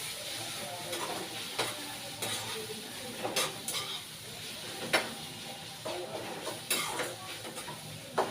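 A spoon stirs chicken masala and amchur powder into a bitter gourd curry in a pan, with repeated scraping strokes over a steady low sizzle and hiss, close by.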